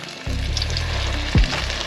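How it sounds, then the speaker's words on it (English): Fish dropped into hot oil for frying, a sudden burst of steady sizzling that starts after a quiet moment and holds close and loud, with a low thump partway through. "when you're frying fish, what do we need to know, Jeremy?"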